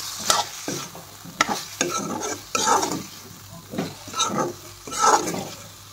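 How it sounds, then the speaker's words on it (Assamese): Onions frying in a pan are stirred with a utensil in repeated scraping strokes over a steady sizzle, close up and with no voices. "দি ধুনীয়াকৈ এবাৰ লাৰি দিছোঁ"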